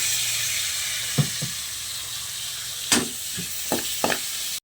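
Tomatoes frying in a pan for a Filipino eggplant dish give off a steady, close sizzle that runs the whole time, with a few short knocks and stirring clatters from the pan rising above it.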